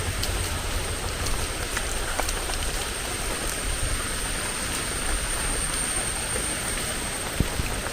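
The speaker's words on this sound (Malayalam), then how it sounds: "മഴയേ." Rain falls steadily around a rural house, a constant soft hiss with a faint scattering of drops and no voices.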